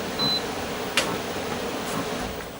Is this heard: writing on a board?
no